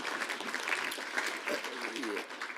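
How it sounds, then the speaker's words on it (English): An audience claps in a steady, dense round of applause that carries on throughout, fairly faint in the room, with some voices mixed in. "Let's give Brian a round of applause"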